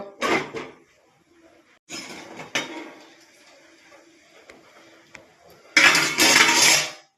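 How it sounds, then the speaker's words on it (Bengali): Metal clatter of a lid being handled over a pot of boiling soybeans, several separate clanks and scrapes with quiet gaps between, ending in a louder rattling burst as the lid goes on. "এবার আমি ঢাকা দিয়ে দেব।"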